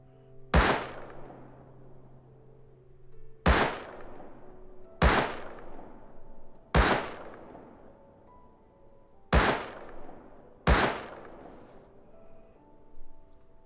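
A Thompson gun loaded with standard ammo in Rust fires six separate single shots at irregular intervals, each a loud sharp crack followed by a decaying echo.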